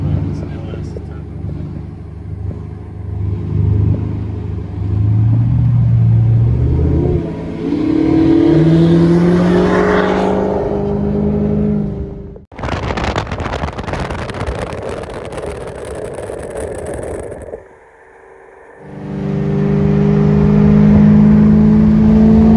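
A turbocharged GM LS-powered race car, an HSV VF GTS at QR Raceway, revs hard on track, its engine note rising and falling under wind noise and occasional talk.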